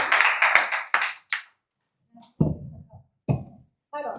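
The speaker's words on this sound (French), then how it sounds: "Sous vos applaudissements, mesdames et messieurs" Audience clapping at a summer university session on Algerian justice, a brief burst of applause that fades out after about a second and a half, followed by faint scattered sounds and quiet pauses.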